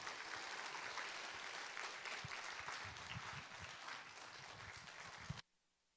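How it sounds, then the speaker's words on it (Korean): A church congregation applauds to welcome a pastor to the stage at an evening worship and testimony service, with steady sustained clapping that stops abruptly near the end. "목사님 나오실 때 우리 크게 박수로 환영하겠습니다."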